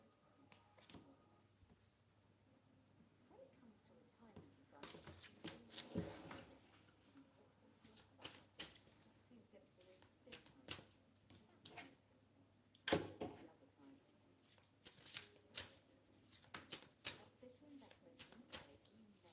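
Tarot cards shuffled by hand during a live reading, giving irregular papery riffles and soft slaps that grow busier and louder in bursts over a quiet room background.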